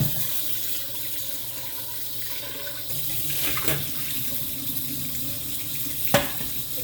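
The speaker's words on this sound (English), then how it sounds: "I began by washing my hands." Hands being washed under a running kitchen tap, a steady close hiss of flowing water with a couple of brief splashes and clatters.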